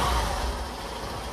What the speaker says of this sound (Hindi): देखिए बाइक को स्टार्ट कर दिए लोग